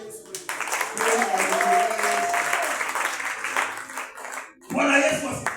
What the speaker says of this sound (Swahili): Kama makofi kwa ajili ya Yesu